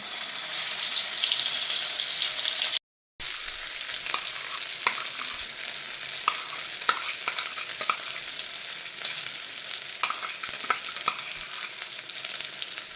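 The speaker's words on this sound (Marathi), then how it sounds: "तेल चांगले गरम झाले की हे वाटण घालायचे आहे" Ground spice paste fried in four to five spoons of hot oil in a kadhai wok, a steady close crackling sizzle with a brief cut of silence early on, then regular scraping stirs and light clicks, no talking.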